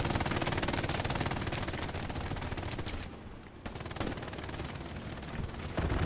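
Aircraft strafing run in Hell Let Loose, a loud sustained roar of rapid machine-gun fire and impacts, dipping briefly before surging back up.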